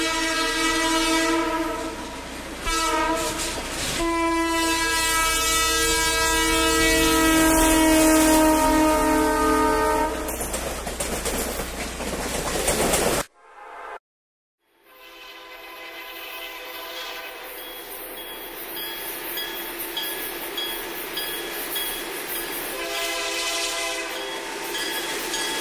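A Chicago Great Western Railroad freight train led by an F3 and five F units sounds its horn in long blasts over heavy rumbling, then after a brief break rolls on with clattering wheels and more horn.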